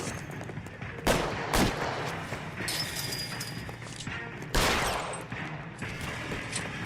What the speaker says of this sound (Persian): الان به ما تیر میزنه